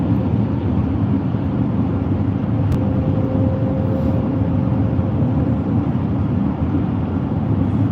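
Road noise inside a moving truck on an Alaska drive, a loud, steady low rumble and broadband roar throughout, with a brief click and faint whine partway through.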